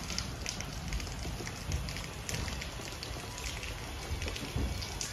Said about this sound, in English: it's like a total downpour, and I have to eat in the rain.